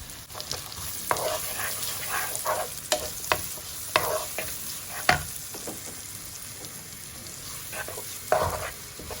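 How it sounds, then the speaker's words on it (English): Leeks cooking in butter in a pan, a low continuous sizzle with repeated clacks and scrapes of a utensil stirring them, close and quiet. "goes in our leek, and I'm just going to cook this for 5 minutes until it kind of softens up slightly"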